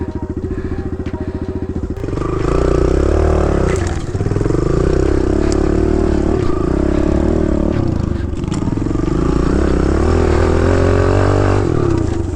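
A dirt bike engine idles with a rapid putter, then picks up into a louder, steady running drone once it is put in gear on muddy ground, held close for several seconds.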